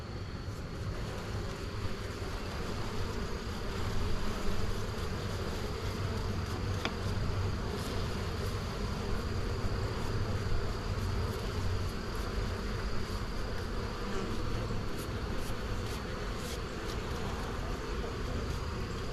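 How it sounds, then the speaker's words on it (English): Honey bees swarm and buzz around a hive frame pulled during a May honey harvest check, a steady dense drone that holds close and continuous throughout with no talking. "I got those bees off of there"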